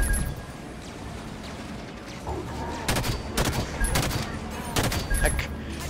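Rapid carbine shots in Halo 5: Guardians, a series of sharp cracks firing in quick clusters over a steady background rumble of combat, loud and near.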